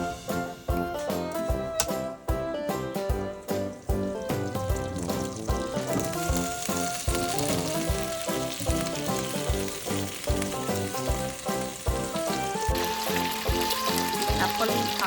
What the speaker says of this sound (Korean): 나폴리탄 버섯을 넣고 대충 지글지글